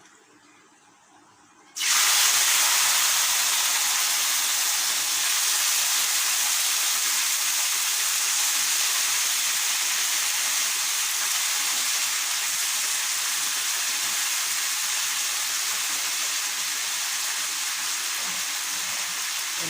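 Cut flat beans and other vegetables hit a hot pan with a sudden loud sizzle that stays strong and steady for the rest of the clip.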